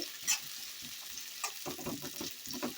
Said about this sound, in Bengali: পেঁয়াজটা একটু নাড়াচাড়া করে নেবো হালকা একটু ভেজে